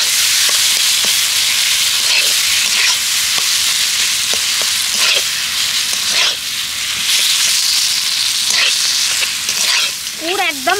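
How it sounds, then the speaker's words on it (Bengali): A filling of two boiled medium potatoes fries in a pan while being stirred, giving a loud, steady sizzle broken by scraping and tapping strokes throughout. "এবার ভালো করে নেড়ে চেড়ে পুরটা তৈরি করে নেব।"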